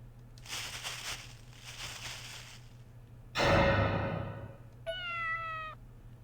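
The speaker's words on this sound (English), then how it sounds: "just a cat." A cat meows once, close and clear, in the horror video game Corpse Party Blood Drive, following a burst of rustling noise over a low steady hum.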